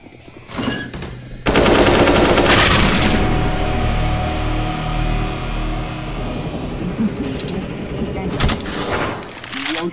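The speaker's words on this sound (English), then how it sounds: "we're getting the greatest terrorist weapon of them all. An AK!" AK rifle fire in Counter-Strike comes as a sharp burst early on, then loud, dense rapid shots and booms through the middle of the round, with players shouting over the gunfire.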